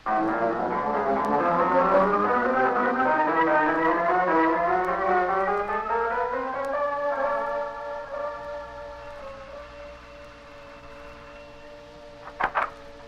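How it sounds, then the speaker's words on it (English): Radio-drama car effect of a vehicle pulling away in pursuit of a taxi: a steady engine drone climbing in pitch as it accelerates, then settling to a cruising hum, with a brief clatter near the end. "Now we can get back into our car and follow him."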